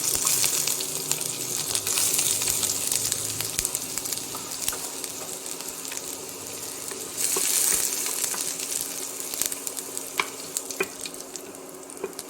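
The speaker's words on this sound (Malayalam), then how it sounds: "കടുക് പൊട്ടുമ്പോൾ അതിലേക്ക് ഉള്ളിയും വറ്റൽമുളകും ഇട്ട് കൊടുക്കാം" Continuous crackling sizzle of mustard seeds popping in oil with onions and dried red chillies added, sharp pops and spatters breaking through, swelling louder partway through.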